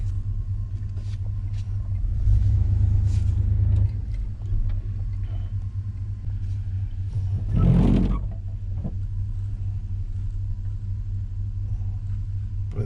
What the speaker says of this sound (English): Oh, here comes a vehicle.